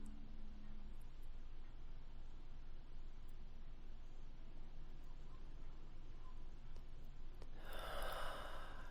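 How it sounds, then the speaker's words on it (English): Slow, deep breaths during a guided meditation come soft and close over a quiet background, ending with a louder rushing exhale. "taking this opportunity to deepen the breath, to allow it to become more full"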